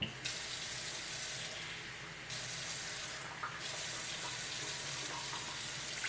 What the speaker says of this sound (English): we're going to put a half a cup of water in the pot